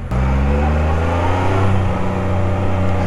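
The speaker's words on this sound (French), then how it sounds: "c'est un moteur 3 cylindres. Donc, tu vois, c'est chantant." A Can-Am Spyder RT three-wheeler's three-cylinder engine, 2020 model, revs close by with a smooth, tuneful hum that holds steady and loud throughout, with no one talking over it.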